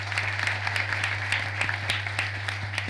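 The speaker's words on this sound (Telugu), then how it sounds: "గట్టిగా చప్పట్లు కొట్టాడు," An audience at an annual meet applauds, a dense, steady clapping that carries through the whole stretch under a constant low hum.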